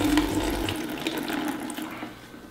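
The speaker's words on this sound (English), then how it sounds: "They want me to literally smash and squeeze the juice out" Pineapple juice squeezed by hand out of a nylon straining bag, a wet, splashing trickle of liquid pouring steadily and slowly tapering off, close up, with no speech.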